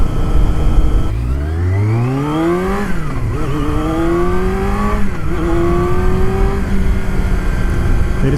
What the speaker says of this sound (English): the engine feels good today